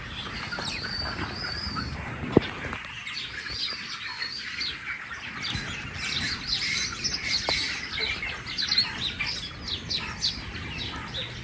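Many sparrows chirping and twittering continuously at a moderate distance near a village farm, with a soft outdoor background hum.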